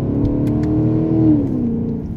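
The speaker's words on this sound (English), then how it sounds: "You can see the downshifts are nice." A 2016 Chevrolet Camaro SS V8 blips its revs through automatic downshifts, a close, loud rising and falling engine note with a deep harmonic drone.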